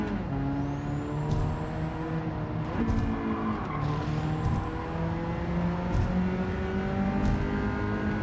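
A race car spinning out in Gran Turismo 7, with a loud engine and rising whines as tires squeal and skid through the spin, then the engine revs again under continuous racing noise.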